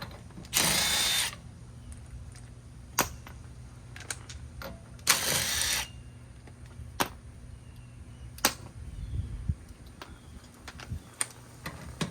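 A cordless impact tool spins lug nuts off a 2007–2017 Ford Expedition's rear wheel in two loud, roughly one-second bursts, with sharp clicks and taps of handled parts in between.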